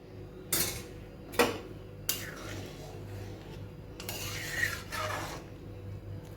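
A metal lid clanks onto a pot of masala khichuri in a home kitchen, with several sharp knocks and scraping rubs spread across the clip over a low steady hum, and a voice talking faintly.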